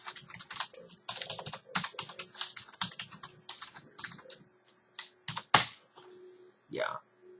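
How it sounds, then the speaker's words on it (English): Clicky computer keyboard typing comes in quick irregular bursts at close range, with short pauses between runs of keystrokes and a louder isolated tap near the end. "you can just type in SQL Server 2014 Express prerequisites"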